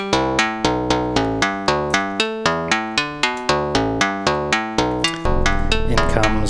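A Schlappi Engineering Three Body oscillator plays cross-mod FM synth tones as a steady run of bright, metallic, bell-like notes that shifts to a denser, buzzing drone near the end.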